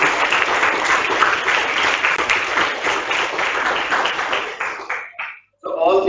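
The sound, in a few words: audience applause for quiz team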